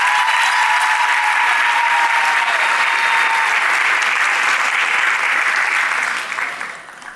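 Loud, dense studio audience applause welcoming a singer onto a television music show stage, a sustained roar of clapping that holds steady and then tapers off near the end.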